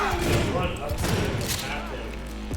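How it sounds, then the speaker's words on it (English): A shotgun fires during Cyberpunk 2077 gameplay, heavy booming blasts that overlap with talking voices and game sound. "We're gonna try this shotgun."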